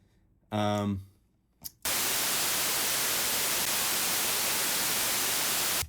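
A short synth tone and a click give way to a loud, steady hiss of white noise from an analog synthesizer that holds evenly for several seconds, then cuts off.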